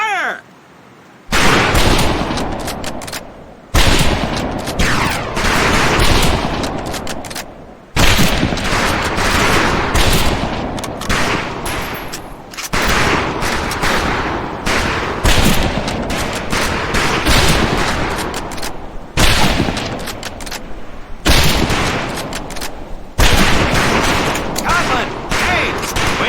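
Repeated rifle shots crack out at a bootcamp firing range in Medal of Honor Pacific Assault, a dense, loud volley of overlapping reports with brief pauses between bursts.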